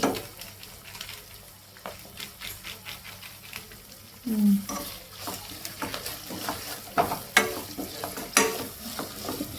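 Chicken fries over medium flame in a pan while being stirred, with an ongoing sizzle broken by irregular scraping and clattering strokes of the spoon, close and fairly loud.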